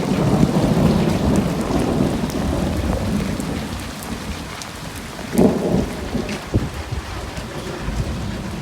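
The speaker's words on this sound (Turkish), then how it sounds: "Hep yağmur oldu. Gördüğünüz gibi. Şimşek atıyor." A thunderstorm brings heavy rain that hisses steadily on surfaces, broken by deep rolling thunder rumbles and a couple of sharper cracks.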